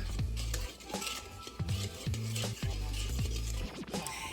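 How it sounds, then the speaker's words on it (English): A spoon scrapes and clinks around a bowl, stirring sugar into a bread dough mixture for cloverleaf rolls so it dissolves. Close, rhythmic strokes repeat steadily with no talking. "And we are going to add the sugar. We're going to mix that around. Dissolve it."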